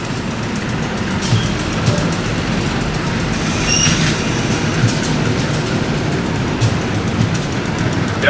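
A passenger train hauled by a CC203 diesel locomotive passes through Jatinegara station in Jakarta, with a continuous loud rumble of wheels, a brief high squeal partway through and rhythmic clicks of rail joints.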